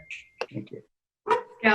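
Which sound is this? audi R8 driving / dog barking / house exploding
dog barking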